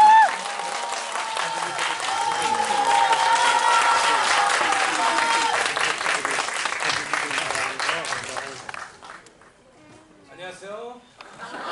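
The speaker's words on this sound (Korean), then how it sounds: "박수로 맞이해 주세요." Audience applause at a stage greeting for the Korean film Ninja Turtles: Mutant Mayhem, steady dense clapping for about nine seconds, then fading as a voice begins speaking.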